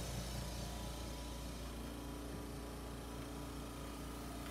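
A 3-D vacuum press pulls down over a dog bowl with a steady, loud mechanical drone and hum that runs without pause, close and alone with no talk.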